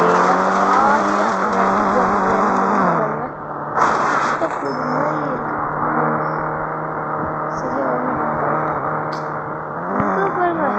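A Bugatti or Ferrari car engine drives in the Indian Bike video game, a steady loud synthetic engine tone with pitch rising and falling as it shifts, briefly dipping mid-way, while a voice talks over it.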